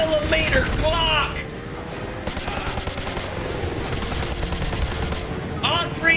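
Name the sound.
fully automatic 9mm Glock gunfire in Call of Duty: Modern Warfare 2 Remastered video game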